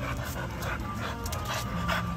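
Pit bull dog panting close by, quick steady breaths over a constant background hum, with a few faint whimpers mixed in.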